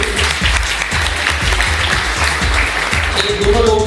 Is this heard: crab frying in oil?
no